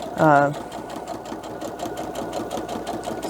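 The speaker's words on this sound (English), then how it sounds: "sewing down the middle, and then back stitching, and then cut." A home sewing machine stitches a fabric mask with a pocket and nose piece, humming steadily and close for about three seconds after a brief voiced sound at the start.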